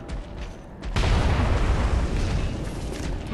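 A heavy cannon blast in the Bloodborne Old Hunters DLC first boss fight, a sudden loud boom about a second in that rolls into a sustained, thick rumble of game combat noise.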